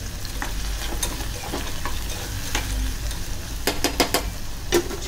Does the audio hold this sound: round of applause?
no